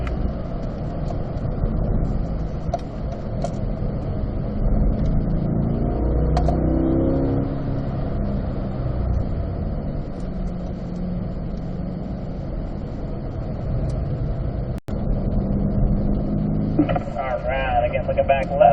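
In-car sound of a car driving a race track, climbing through the S-curves in third gear, with a loud, steady engine drone that shifts in pitch through the corners while someone talks over it.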